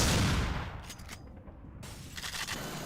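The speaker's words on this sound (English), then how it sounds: "What I love about this game are the explosions." Explosions and gunfire from an older shooter game played on an Xbox One S open with a loud blast, then shift into a rumbling aftermath and scattered crackling shots. There is no talk.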